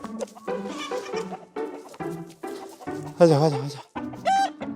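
Native Korean chickens and silkies cluck and squawk in a rural yard in Hongcheon, Gangwon, with short calls scattered through the scene while someone speaks between them.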